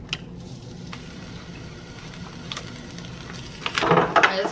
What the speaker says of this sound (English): I'm gonna put my bacon on.